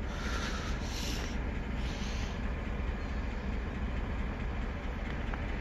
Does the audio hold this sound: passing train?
yes